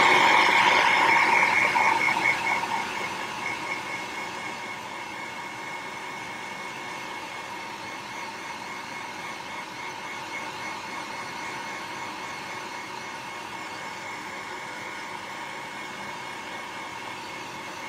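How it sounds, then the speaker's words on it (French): Hair dryer blowing to dry a crafted figure, starting loud for about two seconds, then dropping to a lower steady whoosh that runs without pause, with no talk. "Et je reprends notre outil, le sèche-cheveux."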